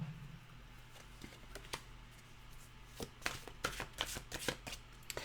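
A deck of mantra cards being shuffled by hand, a soft rustling that builds into a dense run of quick riffling flicks, close and fairly quiet.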